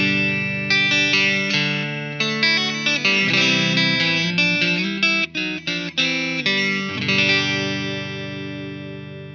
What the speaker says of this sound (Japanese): それではネック側のピックアップから音を聞いてみましょう。